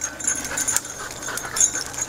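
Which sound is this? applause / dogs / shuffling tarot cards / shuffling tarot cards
dogs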